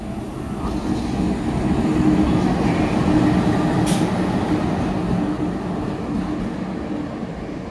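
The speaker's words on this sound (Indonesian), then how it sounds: "Jalur 4 lokomotif dinas," A service locomotive rumbles steadily along track 4 at a busy Jakarta railway station at night, a continuous low, heavy rolling drone holding level throughout, with a brief hiss near the middle.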